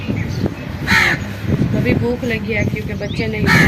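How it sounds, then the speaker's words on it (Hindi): A crow caws repeatedly in a village near a home kitchen during a morning routine, with sharp calls breaking through as someone talks over them close by. "और इधर कौवा बोल रहा है"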